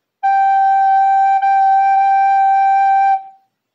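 Tongued recorder notes on D sound close and steady, with a brief articulation break near the middle separating otherwise sustained tones, and no talking.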